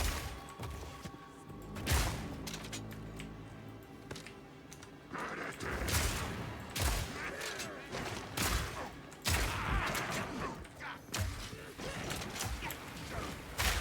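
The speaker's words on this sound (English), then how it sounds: "I did not mean to shoot these grenades that far." Grenades fired in the action RPG Path of Exile 2, a busy run of sharp bursts and crashing impacts layered over clanking mechanisms and game ambience, with several loud hits spread across the span.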